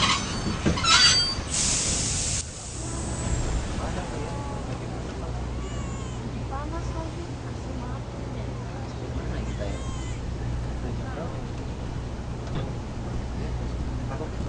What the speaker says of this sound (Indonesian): naik kereta ekspres Jakarta-Jogja saat kereta tiba-tiba berhenti